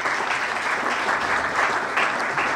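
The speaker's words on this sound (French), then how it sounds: "On applaudit très fort pour l'ancienne." A graduation-ceremony crowd claps steadily and loudly throughout, a dense, continuous wash of applause with no voices rising above it.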